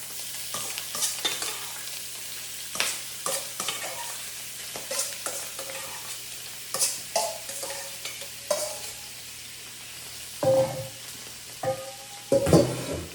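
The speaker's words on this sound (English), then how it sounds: "So it's a little stir fry process we're gonna do." A seafood mix stir-fried in a hot smoking pot for linguine: a steady sizzle broken by repeated scraping, clattering stirs, close and fairly loud, growing busier toward the end.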